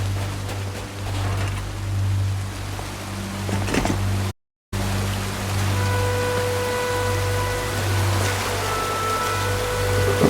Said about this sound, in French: On s'est passé à travers la cascade